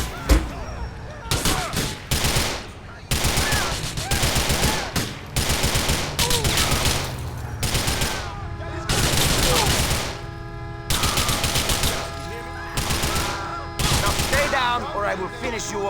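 Video game gunfire from GTA IV comes in loud, rapid bursts and volleys that repeat throughout, dense and close, separated by brief gaps.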